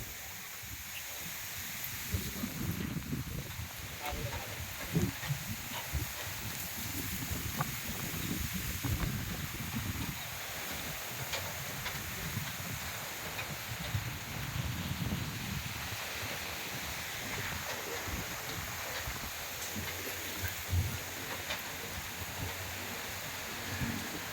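Continuous strong pre-rain wind buffeting and rumbling against the microphone for the whole stretch, with gusting swells and rustling noise and no voices.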